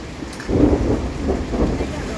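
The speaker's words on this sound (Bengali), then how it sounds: "বাইরে ভীষণ পরিমাণে বাজ পড়ছে, আর প্রচুর বৃষ্টি হচ্ছে" Low rumbling thunder rolls through a steady wash of rain, with no voices present.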